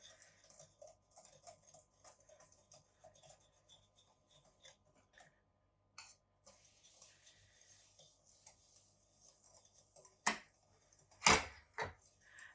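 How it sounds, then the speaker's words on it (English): Whisking melted butter into buttermilk pie filling in a bowl produces quiet, scattered scraping and ticking, then a few louder clanks of the whisk against the bowl near the end, with no talk. "I'm going to whisk in 3 tablespoons of butter that I've melted"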